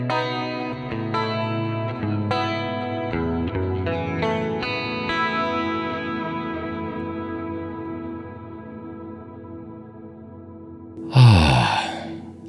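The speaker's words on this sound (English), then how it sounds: "The enormous cumulonimbus reverb, which of course is based on the larger reverb Strymon effects." An electric guitar through a Fractal AM4's huge cumulonimbus reverb, modeled on Strymon reverbs, playing clean notes and chords that bloom into a long, lush, washing tail, followed by a brief sharp burst near the end, with no voices.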